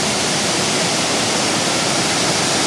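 Phon Phop waterfall on Phu Kradueng mountain roars as a steady, dense rush of falling water, loud and close with no gaps and no voices.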